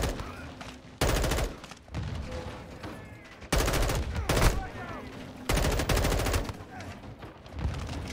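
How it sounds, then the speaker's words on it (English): A Call of Duty Modern Warfare firefight with grenades being launched: long, loud bursts of gunfire and blasts come in waves, with voices shouting between them. "They're launching grenades!"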